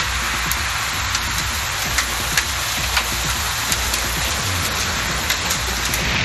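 Heavy rain falls in Madurai during a storm with strong wind and hail, a dense, loud, continuous roar of drops that stays steady throughout. No distinct thunderclap stands out, and no voices are heard.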